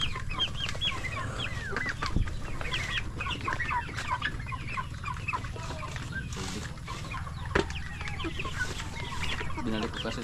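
Broiler chickens in a farm pen cluck and chatter continuously, several birds close by making repeated short calls over a low background murmur.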